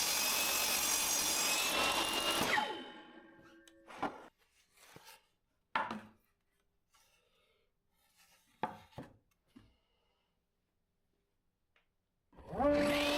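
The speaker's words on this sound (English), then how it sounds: "I'll have to use the small miter gauge that came with the table saw instead" A table saw with a miter gauge crosscuts wooden boards, beginning with a loud, sustained whine that spins down, followed by scattered knocks and clatter as the boards are handled nearby.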